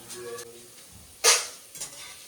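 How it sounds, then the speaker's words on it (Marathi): Potato stick chips fry in oil over a low gas flame with a soft, steady hiss, broken by one sudden loud sizzling burst and a smaller splash; a voice is briefly heard at the start. "चिप्स वाले स्टिक, आलू वाले स्टिक लवकर फ्राय होतात, मग आपण कमी गॅसवरच याला फ्राय करतो"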